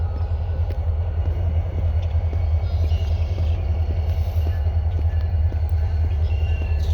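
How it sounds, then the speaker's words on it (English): A freight train rumbles steadily past a trail, deep and continuous, with faint rhythmic clacks of wheels over rail joints throughout. "If you're into freight trains, you definitely might enjoy this part of the trail."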